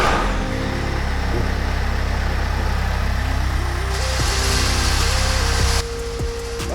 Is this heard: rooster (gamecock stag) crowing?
no